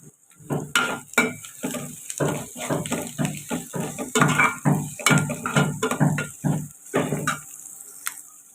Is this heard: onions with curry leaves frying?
yes